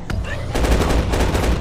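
Machine gun firing in The Last Stand Dead Zone zombie game, a loud rapid burst of evenly spaced shots after a single opening report, close and continuous to the end.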